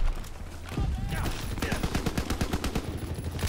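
Rapid, evenly spaced gunfire from the World War II shooter Call of Duty WWII, a steady automatic-weapon burst that runs for most of the moment at moderate loudness.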